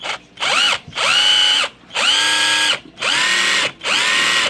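A 14.4V cordless drill with binding internal gears whirs in five bursts, revving up and cutting off with short pauses between, a strained grinding tone running through each run.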